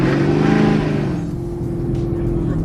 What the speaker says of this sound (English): It's so loud. I'm not used to driving a loud car no more.